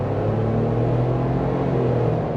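A Ford Bronco Black Diamond with the 2.7-liter twin-turbo V6 pulls up an on-ramp at part throttle, its engine a steady low drone that holds even and continuous for the whole stretch, with no voices.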